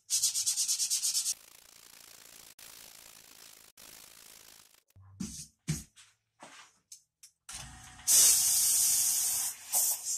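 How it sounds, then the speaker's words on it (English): Sandpaper rubs along the grain of a wooden coffee mug in loud, raspy bursts at the start and end, with a quieter middle stretch of scattered taps and brief scuffs in between. "I'll sand it with the grain."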